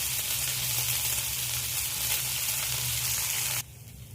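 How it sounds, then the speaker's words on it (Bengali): Ginger, garlic and green chilli paste fries in a hot pan for a korma, a steady loud sizzle that runs unbroken, then drops away sharply near the end. "এবার আমি এখানে আদা রসুন কাঁচা লঙ্কার পেস্টটা দিয়ে দিলাম। দিয়ে আমি 2-3 মিনিটের মতো ভেজে নেব।"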